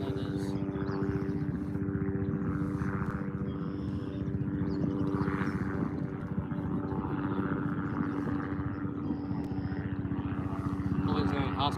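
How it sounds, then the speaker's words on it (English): A helicopter flies overhead, its steady rotor drone and buzzing harmonics running continuously and fairly loud, with faint voices talking underneath. "What kind of chopper that is?"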